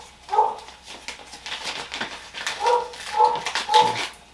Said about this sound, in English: Sorry about the barking, guys.